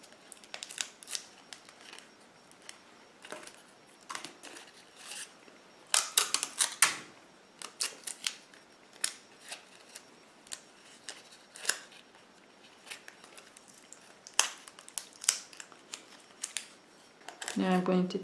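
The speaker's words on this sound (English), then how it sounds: "So you want to tape this piece up really, really good." Tape is pulled and pressed onto paper pieces of a paper mache wolf mask pattern, giving close, crackly strips of ripping and crinkling paper in uneven bursts, with a louder rustle at the very end.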